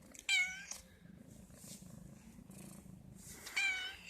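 A cat purrs low and steady throughout, with two short, high meows near the start and the end.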